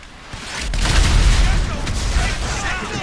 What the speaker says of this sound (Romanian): Cineva i-a bubuit mașina cuiva.